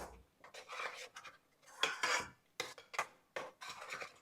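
Masala paste being sautéed for salna, a spoon scraping and stirring the thick paste in a metal pan in short uneven bursts, close and fairly quiet with pauses between strokes.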